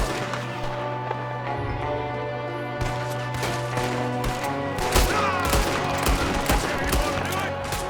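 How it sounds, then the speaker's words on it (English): Gunfire in Red Dead Redemption 2, a gunman shooting from a window, with rapid overlapping shots cracking out in bursts in the second half over music and background tone, voices shouting at times. "There's another one shooting from the window."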